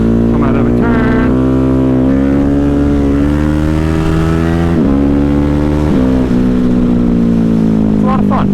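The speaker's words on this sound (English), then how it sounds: "Ride this bike on the rear tire, come out of a turn," A Ducati Hypermotard 950 motorcycle holds a steady, loud engine drone during a rear-wheel wheelie, with small shifts in pitch as the throttle changes and no break in the sound.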